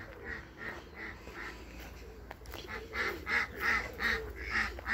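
Repeated nasal honking calls from ducks, several quick bursts in a loose rhythm, growing louder and denser in the second half over a low background rumble.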